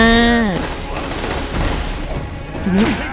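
Gunfire erupts in The Amazing Spider-Man 2 video game, a flurry of sharp shots and impacts, loud and close, with a voice speaking briefly at the start and again near the end.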